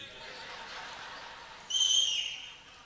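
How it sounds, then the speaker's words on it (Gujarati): A single sharp whistle rings out briefly from an audience at a folk music performance, standing over a steady hum of room noise. "ના સીટી ન મારતા, કારણ કે હું દેખાવડો નથી."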